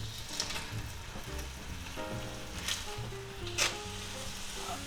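Frozen boneless pork chops sizzle in a cast iron skillet, a steady close crackling hiss with occasional louder pops, no voices over it.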